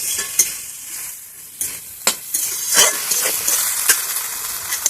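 Water hitting a hot pan while Maggi noodles cook, with a loud continuous sizzle and hiss and several sharp clinks and scrapes of stirring in the pan.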